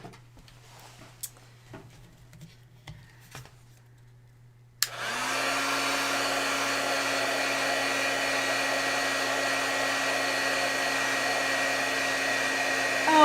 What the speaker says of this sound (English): it's going to get real loud here for a second when I heat this.